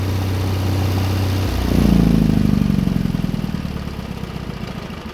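An Onan DJB 2-cylinder diesel generator idles with a steady low thump, then surges briefly as it is shut down, the loud clattering chug slowing and winding down over the following seconds.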